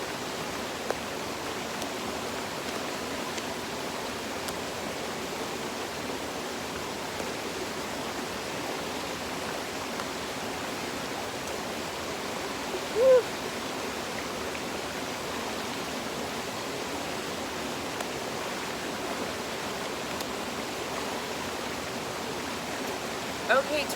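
Water runs steadily in a continuous soft rushing hiss that stays low in the background, with a couple of brief small knocks and no talk.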